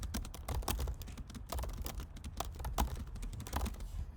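Fingers typing on a computer keyboard while entering text into an Excel spreadsheet, quick irregular clicks and taps close up, with no talking.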